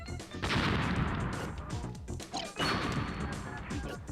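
Bombs exploding in Super Smash Bros. on the N64, two loud crashing blasts about two seconds apart, each with a dense, noisy burst that trails off.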